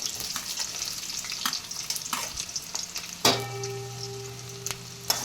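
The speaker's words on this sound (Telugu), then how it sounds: "అందులో ఆయిల్ వేసేసి వేడయ్యాక మిర్చి, ఆనియన్ వేయాలి." Chili and onion sizzle in hot oil in a pan, with scattered crackles and stirring clatter, then a sharp louder sizzle and a ringing metallic clink, close up with no talk.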